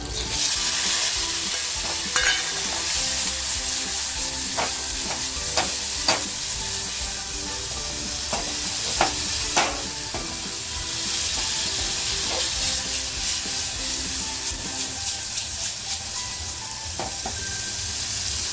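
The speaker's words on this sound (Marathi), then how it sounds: "लसूण टाकते आणि ही जी गाबोळी घेतली आहे ना ती आता मी ह्या तेलामध्ये टाकणार आहे" Garlic and fish roe (gaboli) of silver barfish frying in hot oil, a loud steady close sizzle and hiss with occasional spoon taps and stirring scrapes, no talk.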